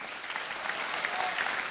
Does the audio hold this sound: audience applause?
yes